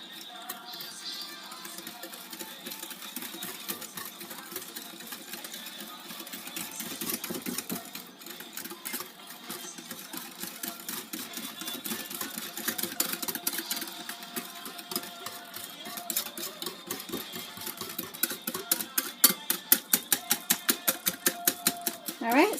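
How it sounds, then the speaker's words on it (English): Instant pudding mix for pumpkin pie is whisked in a bowl, a fast steady rattling tick of the whisk against the sides that grows louder and more pronounced toward the end. "you're just going to whisk this together as you would make instant pudding"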